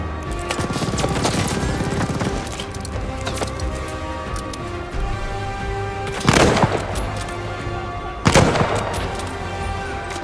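Rapid gunfire from Call of Duty: Vanguard, sustained and loud across the whole stretch, with heavier booming bursts punching through near the middle and end amid dense battle noise.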